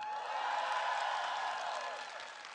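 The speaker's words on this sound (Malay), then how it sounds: "Cuba tepuk tangan saya dengar." Seminar audience clapping and cheering together, a broad steady wash of applause that swells early and eases slightly toward the end.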